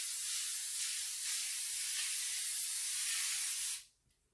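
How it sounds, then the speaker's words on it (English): A steady hiss of cooking spray onto foil runs for several seconds, then cuts off abruptly into near silence. "Lightly spray your foil"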